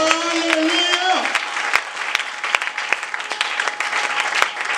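A church congregation claps together after a call to praise the Lord, steady broadband applause filling the space while voices and singing carry underneath at first.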